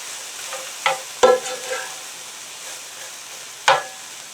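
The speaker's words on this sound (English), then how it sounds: "let the onion and the cabbage get a little bit tender, and I'm going to stir that up" Onion and shredded cabbage stirred in a pot, a soft sizzle running under a few sharp scrapes and clinks of the spoon against the pot.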